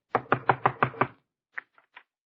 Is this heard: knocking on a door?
yes